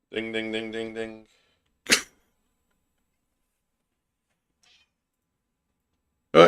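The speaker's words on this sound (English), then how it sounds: "you can hear my cat even" Pet cat meowing indoors, one clear drawn-out harmonic meow lasting about a second, fairly close, followed by two short sharp noisy bursts separated by near silence.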